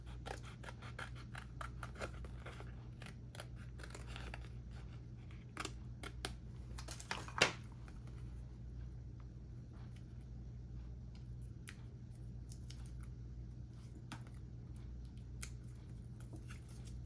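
Scissors snip steadily through paper while a shape is cut out, a run of small, close, crisp clicks at an uneven pace over a low steady hum, with one sharper cluster of snips midway.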